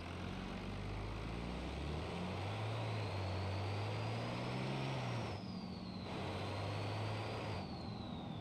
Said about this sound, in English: Hey, that's what a turbo is supposed to sound like.